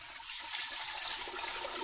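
Two liters of water pour into a cooking pot for dal, a short bright gushing splash that rises slightly and carries on steadily for under two seconds.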